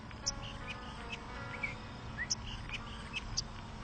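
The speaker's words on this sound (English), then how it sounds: "now I have a bird, see?" A bird chirps in scattered short, high tweets spaced through the clip over a low indoor background hum, fairly close and soft.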